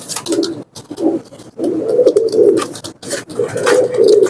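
Saharanpuri pigeons coo in low, throaty bursts, several close together, one after another with brief pauses, up close and fairly loud.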